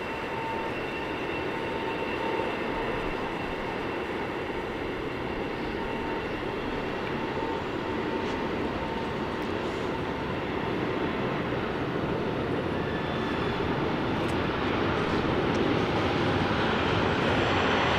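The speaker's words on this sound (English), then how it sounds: "Qantas is taking off now" A Qantas airliner takes off at Sydney Airport, a continuous broadband engine rumble with a steady tonal whine that builds gradually louder as the roll goes on, with no voices over it.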